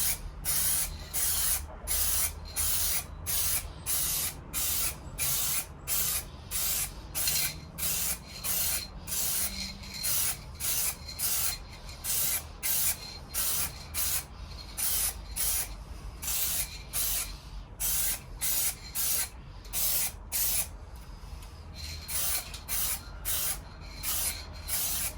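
A spray can laying a light coat of paint on the front wheel of a 1998 Suzuki GSX-R600 SRAD at home: a long run of short, regular hissing bursts with brief pauses between them, close and clear.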